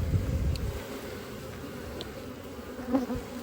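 A dense, steady buzz of many honeybees swarming close by around a large hive early in the season, constant throughout with a few louder passes near the microphone.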